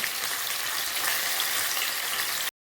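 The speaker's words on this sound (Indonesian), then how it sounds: "Di sini saya akan menggorengnya tidak terlalu kering, cukup untuk memerahkan kedua sisinya saja." Fish sizzles in hot oil for a Bahraini fish curry, a steady close crackling hiss that runs without pause and then cuts off abruptly.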